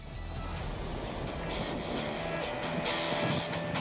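Mi-26 heavy helicopter on a test flight of several hundred kilometres, a loud continuous engine and rotor roar heard up close and steady throughout.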